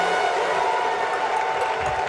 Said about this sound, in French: applaudissez plus fort que ça